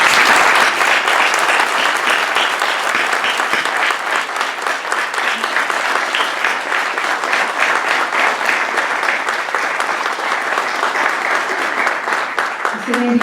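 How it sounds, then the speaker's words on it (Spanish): Audience applause at a Spanish-language book presentation, dense sustained clapping from a seated crowd filling the room for over ten seconds. "Un aplauso para él."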